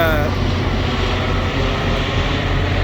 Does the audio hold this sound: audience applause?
no